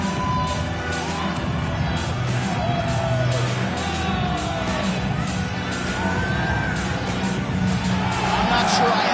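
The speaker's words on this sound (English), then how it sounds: "I'm not sure I have ever heard a louder crowd in any arena in the world than this here Bell Center" A loud arena crowd roars and cheers steadily at the Bell Centre in Montreal, Quebec, in the EA UFC fighting video game, with dense, constant cheering and yells close up and a commentator voice running underneath.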